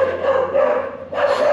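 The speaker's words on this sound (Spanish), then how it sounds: "preciso el perro está ahí ladrando" A dog barks continuously nearby, loud and steady, briefly dipping before carrying on.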